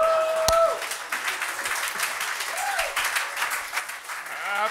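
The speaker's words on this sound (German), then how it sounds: "Applaus, Applaus, Applaus." Steady applause from an audience at a German press conference plays moderately loud, with a brief voice and tonal sounds cutting through at the start.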